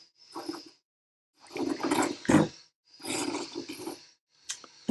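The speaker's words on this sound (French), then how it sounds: "t'entendre la pompe comme ça qui se met en marche" Pump of a Beem Espresso Perfect machine starting up, a loud rough buzzing drone in several bursts separated by short pauses.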